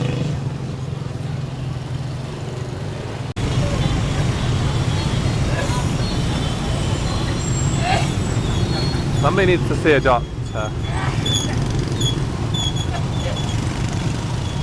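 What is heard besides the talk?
street traffic in Ho Chi Minh City, Vietnam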